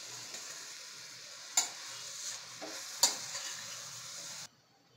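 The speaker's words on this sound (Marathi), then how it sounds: "यामध्ये मी घालणार आहे जो खिसलेला आहे गाजर, तो याला मिक्स करून घ्यायचं आपल्याला चांगलं" Grated carrots with cashews and almonds are stirred in a pan over a gentle sizzle, with two distinct scraping strokes of the spoon before the sound cuts off; no voices.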